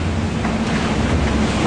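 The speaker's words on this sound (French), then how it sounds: "Et une mer très formée." Rough, heavily built sea and strong wind, near 29 knots, roar steadily around a sailing boat, a dense, unbroken wash of surf and wind buffeting the microphone, loud and close.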